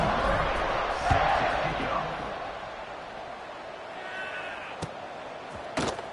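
A stadium crowd roars at kickoff in the NCAA 26 college football video game, a broad cheering wash that swells early and then settles lower, with a couple of sharp thuds near the end.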